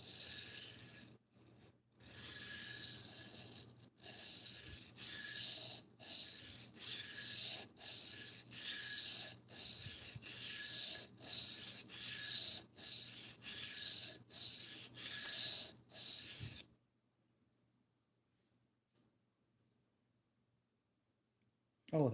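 Repeated rasping strokes of a knife blade across a Cheefarcuut 400 grit sharpening stone, steady back-and-forth rhythm for about sixteen seconds, close and fairly loud, then silence.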